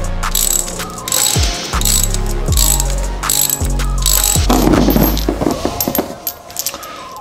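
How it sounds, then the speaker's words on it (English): A hand ratchet clicks rapidly and loudly up close while loosening old NGK spark plugs from a 2006 Subaru Impreza engine, in several bursts of metallic pawl ticking separated by brief pauses, with no talking. "So let's pull the rest of them out."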